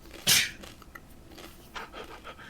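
A dog pants in quick, breathy bursts, opening with one sharp loud huff and then softer, uneven breaths close by.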